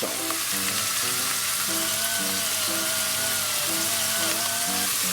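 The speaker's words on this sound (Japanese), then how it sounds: "絡めたらちょっと焼き色がつくまで 炒めていきます。" Oysters stir-fry over high heat in a pan until browned, a loud continuous sizzle and crackle close by, with a repeating mechanical hum underneath and no speech.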